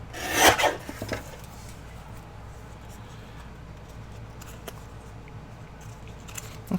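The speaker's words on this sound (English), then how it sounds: "I'm going to trim this down a little bit smaller." Paper being trimmed for a handmade journal gives a short, close rasping cut near the start, followed by quieter faint rubbing and handling sounds.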